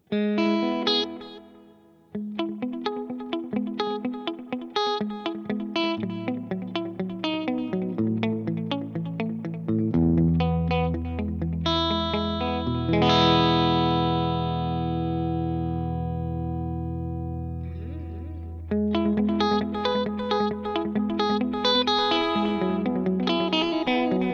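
An electric guitar plays notes through a Fender Tone Master Pro delay effect with feedback turned up, the repeats trailing, darkening and stacking into long echoing tails that swell and fade between phrases.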